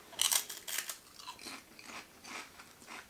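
Thin potato crackers crunched in several crisp bites followed by chewing, close and clear with no talking.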